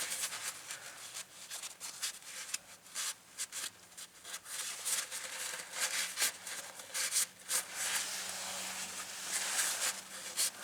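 A rag wipes oil from the LS engine in a Gremlin, making soft, irregular rubbing and scuffing strokes at close range, steady with brief louder swipes and no talk.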